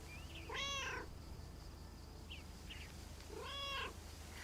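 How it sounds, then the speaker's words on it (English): Cats in a video game meow twice, each a drawn-out, rising-then-falling cry several seconds apart, with faint chirps between over a quiet low hum. "you're the cat lady, and you've got more cats than ever"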